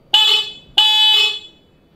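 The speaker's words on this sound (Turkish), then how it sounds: "Böyle bir korna sesi, bir scooter'dan hani bu bildiğin araba kornası sesi." A Doohan iLark electric scooter's horn sounds two loud, close honks in quick succession, each a steady car-like tone that cuts off cleanly.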